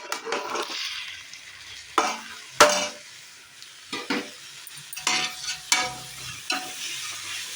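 Chopped onions and tomatoes for a country-chicken biryani frying in a pot and being stirred, with a steady close sizzle broken by repeated scraping strokes of the spoon, several louder clacks against the pot, no talking.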